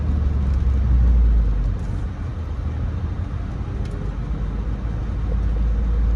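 A car engine pulls steadily uphill in first gear on a Birmingham, Alabama neighborhood street, a loud, close, continuous low drone with road noise inside the cabin and no talking.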